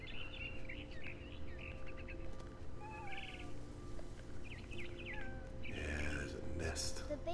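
Short bird chirps and tweets in the game What Remains of Edith Finch, scattered at moderate distance over a steady low ambient hum, with a louder rustling burst near the end.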